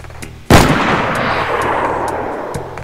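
A single loud, close gunshot in DayZ cracks sharply and rolls into a long echoing decay, with faint clicks and a quieter sound near the end.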